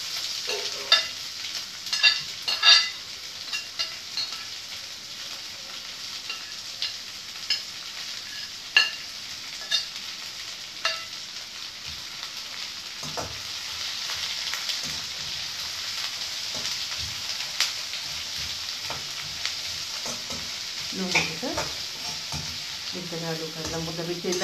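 Chopped onions fry in oil for a tempering for cowpea curry, giving a steady hiss of sizzling with intermittent stirring scrapes and spoon clinks against the pan, close and alone without talk.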